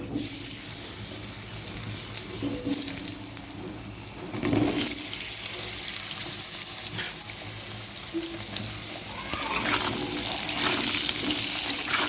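Potatoes fry in hot oil with a tempering of panch phoron, bay leaf and dried red chilli, a steady dense sizzle running throughout with a few stirring scrapes and clatters, no voices.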